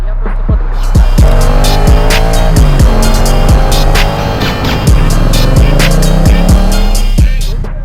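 An engine revs and drones steadily while riding, with road and wind noise and a few sharp knocks, loud and close.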